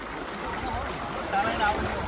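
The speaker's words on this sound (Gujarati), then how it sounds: "બહુ મસ્ત એવું પાણી આવી રહ્યું નદીનું તમે જુઓ" River water flows near a Mahadev temple in Banaskantha district, a steady, close broadband rush with no clear breaks. A few faint higher tones sit above the wash.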